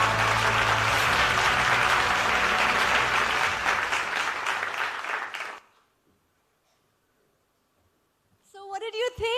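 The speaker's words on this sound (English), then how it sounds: "Can we have a huge round of applause?" Loud audience applause fills a hall at an export award function, sustained for several seconds before cutting abruptly to near silence, then a brief burst of music returns at the end.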